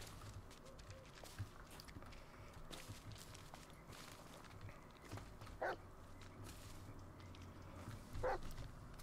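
In the Blair Witch video game, a dog gives faint, short barks and yips a couple of times amid footsteps through a quiet forest, heard at a distance and fairly soft.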